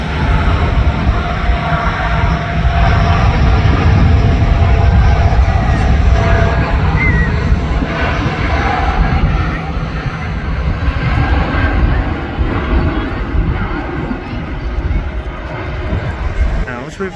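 A Singapore Airlines airliner departs Manchester Airport, its loud engine roar sustained and steady throughout, with a voice talking over it.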